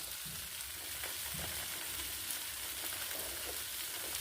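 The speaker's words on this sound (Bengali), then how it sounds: "এইটা এবার মশলার সাথে ভালো করে কষে নেব।" Potatoes and figs fry with spices in a hot pan, giving a steady, soft sizzle broken by light stirring scrapes throughout, with no voices.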